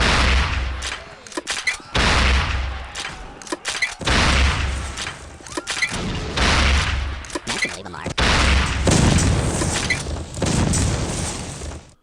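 Postal 2 gameplay with grenade blasts and gunfire pounding almost without pause, as booming explosions and rattling shots come in loud heavy bursts that fill the scene.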